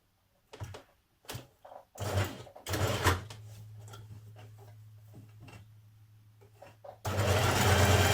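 Sewing machine running in several short bursts and one steady longer run while stitching around an elastic casing hem on a smock dress, close and fairly loud, with handling noises between runs.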